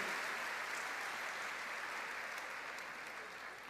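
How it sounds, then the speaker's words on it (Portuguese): A church congregation applauds their choir conductor. The even, continuous clapping sounds fairly soft and distant and holds steady for a few seconds before tapering a little. "Vamos aplaudir a Lidiane, a nossa regente."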